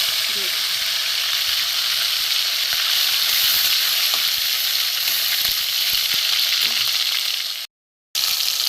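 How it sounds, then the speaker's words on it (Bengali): Chopped tomato fries in a pan of oil after pakoras are lifted out, giving a loud, close and steady sizzle that cuts out briefly near the end. "এবার আমি এখানে অল্প করে টমেটো কুচি আছে"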